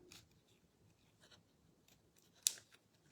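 Scissors trimming glued paper in a quiet craft setting: a few soft, faint snips, with one sharper, louder cut near the end.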